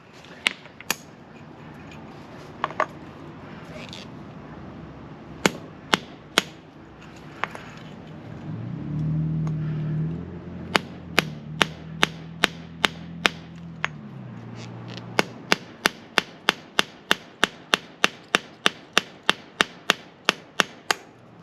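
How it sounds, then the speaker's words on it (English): A bent pin on an Arrma Outcast EXB V1 8S RC car is hammered straight with sharp metallic strikes, a few scattered early, then a rapid steady run of close, loud blows with a brief low hum between. "So we're just going to hammer this one straight."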